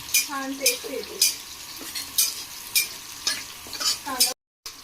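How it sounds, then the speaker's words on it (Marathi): Onion fries and is stirred in a pan, with rhythmic bursts of sizzling and scraping roughly every half second, close and fairly loud, and a few metallic clinks early on. "व्यवस्थितपणे कांदा भाजून घेणे"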